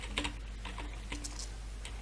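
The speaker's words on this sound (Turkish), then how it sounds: "Oğlum klavye sesi hayvan gibi coşmuş." Quiet, scattered keyboard clicks tap out in irregular bursts over a steady low hum.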